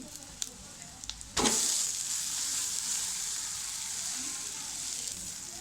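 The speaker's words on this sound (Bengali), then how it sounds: "পেঁয়াজ আর মরিচ হালকা করে ভেজে নিয়েছি। তো এখন দিয়ে দেবো ডাল।" Lentils tipped into a pan of lightly fried onion and chili hit the hot oil with a sudden loud hiss after a few light taps, then settle into a steady close sizzle that fades slightly.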